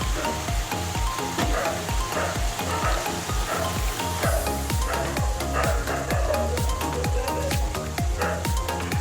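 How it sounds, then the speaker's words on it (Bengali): Fish dropped into a simmering, thickened fish curry in a pan, bubbling and sizzling loudly and steadily throughout, with busy crackling and stirring. "এখন আমি মাছগুলো দিয়ে দেবো"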